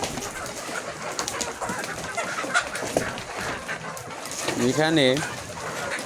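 Layer chickens being fed in a poultry shed, with a steady bed of clucking and coos from many birds and one louder call near the end, while someone speaks over them.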